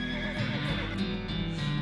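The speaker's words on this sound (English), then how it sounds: "There's a horse." A horse whinnies in the video game West of Loathing, a loud close neigh with wavering pitch lasting nearly two seconds.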